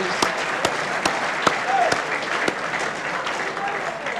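At a 1984 Essendon Bombers premiership celebration night, a crowd gives a moderate, steady round of applause with a few sharper individual claps standing out, and a voice faintly present beneath it.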